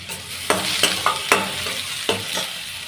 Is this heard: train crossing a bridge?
no